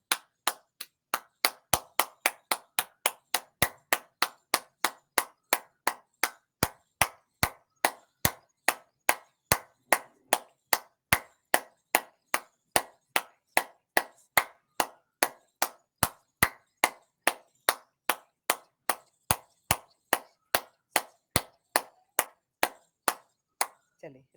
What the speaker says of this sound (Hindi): तो कम से कम हमने रोज 100 से 200 तालियां रोज बजानी चाहिए।